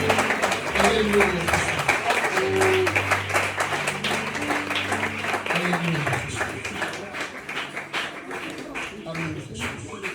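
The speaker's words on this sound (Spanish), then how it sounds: "Un aplauso fuerte a Dios en esta tarde" A church congregation applauds during a Spanish-language sermon service, with dense, continuous clapping that runs the whole time beneath voices and sustained tonal sound.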